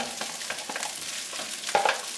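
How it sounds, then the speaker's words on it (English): Steady sizzling of rice frying in hot oil for shrimp fried rice, with light stirring and scraping sounds over a continuous crackling hiss. "You see it's nice and hot. You can hear it sizzling."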